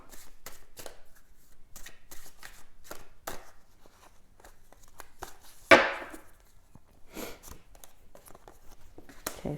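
Tarot cards are shuffled and drawn by hand in quick bursts of riffling and flicking, close and soft, with one sharper slap of a card partway through and no talking.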